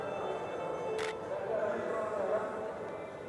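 A single camera shutter clicks sharply, close by, during flash photography, over a steady room hum and under someone talking.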